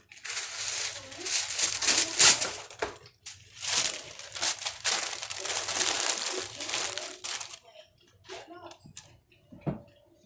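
Brown paper is crinkled and crumpled around a box of pumpkin chocolate chip cookies being packed for shipping, loud close rustling bursts that taper off into quieter handling sounds and a final tap, with a voice talking faintly.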